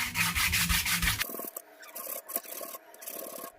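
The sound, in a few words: rubbing a khomok instrument body smooth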